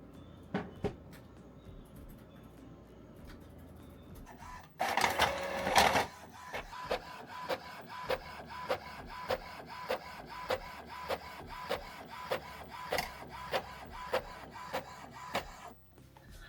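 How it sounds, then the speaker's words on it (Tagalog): Printer running off labels and tags indoors, a steady run of rhythmic mechanical clicks and feed strokes repeating about once per second, after a brief louder burst of paper movement, moderately close with no talking. "Dahil wala akong ginagawa, nag-print na lang ako ng mga labels and tags."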